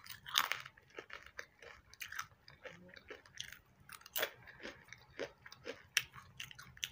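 Close crunching of plantain chips being chewed, irregular crisp bites and grinding chews in quick succession, no talking.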